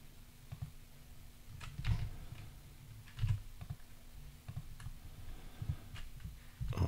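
Light typing on a computer keyboard while working in circuit simulation software, scattered soft key clicks in irregular bursts over a faint steady hum.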